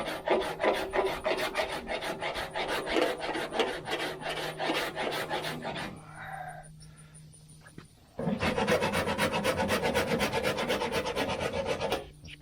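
Cheese grater file rasping body filler on a 1978 Dodge Aspen R/T, fast rhythmic scraping strokes in a steady series, a brief pause, then another run of close, loud strokes.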